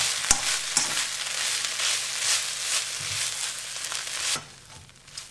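Kale braising on the lowest heat in a covered pan, giving a steady close sizzle and hiss with a few sharp clicks and stirring knocks, fading quieter near the end.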